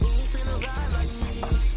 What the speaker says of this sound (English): I like to add my meat first just to get the meat cooking